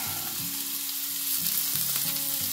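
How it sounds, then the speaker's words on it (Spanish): Onion, green pepper and garlic sizzle in olive oil on a ceramic hob for a sofrito base for rice with clams and squid, a loud steady frying hiss with occasional stirring under a low droning hum. "Y aquí en este aceite vamos a poner la cebolla,"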